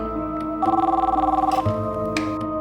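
A telephone rings indoors in a domestic drama scene, a steady pulsing electronic ring over a low background hum, lasting about a second before fading into faint room noise.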